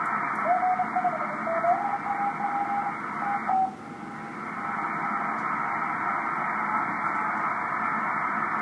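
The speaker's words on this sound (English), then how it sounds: "There's kind of a little bit of noise, a little bit of human-made noise here." Steady hissing static from a radio receiver tuning across bands, with human-made interference, a faint wavering tone sliding in pitch as the dial moves, then continuous even noise.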